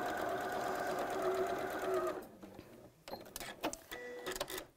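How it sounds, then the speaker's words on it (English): A sewing machine stitches fabric pieces in a steady, close mechanical whir for about two seconds. It then stops and is followed by scattered clicks and handling knocks. "And then let's sew straight across."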